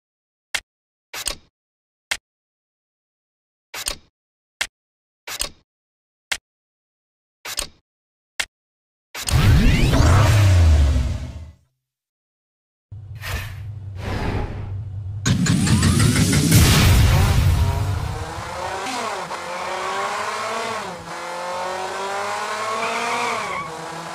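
A race car in the Hot Wheels Unlimited 2 video game follows a string of sharp clicks, with engine revving, squealing tires and a roaring acceleration that rises and falls in loud bursts.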